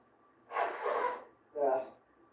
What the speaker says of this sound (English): I gotta blow my nose.